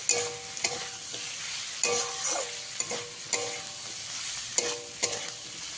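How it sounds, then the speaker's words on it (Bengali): Turmeric powder frying with spices in a pan for semolina jhal suji, a close steady sizzle broken by repeated scraping stirs of a spatula against the pan. "দিয়ে 1 মিনিট মতন আমি ভেজে নেব"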